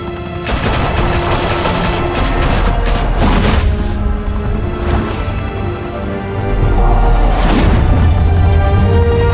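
Video game gunfire in Telltale's Batman: heavy, sustained volleys of shots with a few booming impacts, loud and close throughout.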